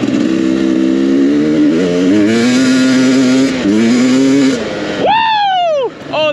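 A motorcycle engine accelerating on a ride, loud and close, its pitch climbing through gears in sustained revving pulls before a sharp rising whine near the end, with voices faintly underneath.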